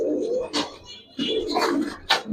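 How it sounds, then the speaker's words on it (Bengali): A big male Marka pigeon coos in low, rolling phrases, loud and close, two swelling calls with brief pauses between them. "দেখেন এটা মার্কা একটা নর মাশাআল্লাহ, খুব বিগ সাইজ, খুব কোয়ালিটিফুল একটা কবুতর"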